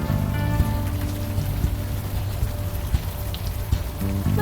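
Rain in the video game Unavowed falls as a continuous patter with scattered droplet ticks, steady and close, while a low musical drone sits underneath.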